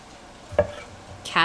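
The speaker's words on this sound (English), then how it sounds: "Sizzling and slicing." Food sizzles quietly in a pan while being sliced, with a soft knife stroke midway and a brighter burst of sizzle near the end.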